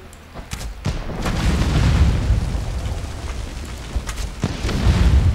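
Bombs exploding against a base in the video game Conan Exiles: a run of heavy, rumbling booms that swell and overlap into a continuous roar, with sharper blasts standing out near the start and end.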